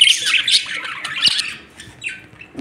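A flock of pet budgies squawks and chirps loudly and continuously at close range in summer, with dense overlapping calls that ease off slightly toward the end.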